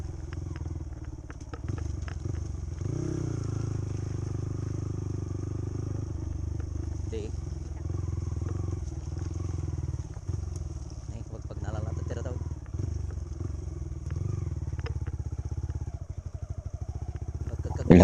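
A motorcycle engine drones steadily at close range on a very muddy, slippery trail with a passenger aboard, with occasional clatter and thumps from rough ground and a person talking over it.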